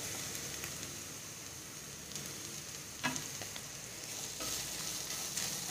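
Onions and turmeric sizzle steadily in a pan for bitter gourd sabzi, with occasional scraping knocks as a spoon stirs them.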